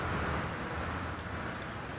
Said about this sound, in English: very rainy.